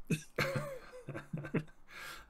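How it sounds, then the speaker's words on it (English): A person coughs in several short, rough bursts, close by, with brief pauses between them. "Ibrium coughs"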